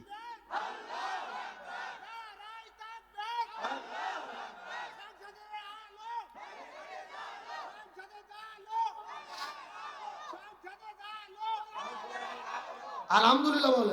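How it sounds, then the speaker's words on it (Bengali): A large religious rally crowd shouts takbir together in loud, repeated bursts of unison chanting, with a few quieter lulls between calls and a final louder surge. "দেন তাকবীর, দেন দেখি।"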